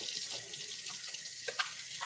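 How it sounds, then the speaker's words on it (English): A kitchen tap runs steadily as hands are washed beside the stove, a continuous close hiss of flowing water with a few brief splashes and spatters near the end. "I'm going to wash my hands."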